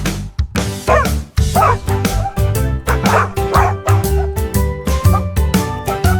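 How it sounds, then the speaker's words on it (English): A dog barking and yipping in quick repeated bursts, loud and close, with some whimpering tones between barks. "D is for dog"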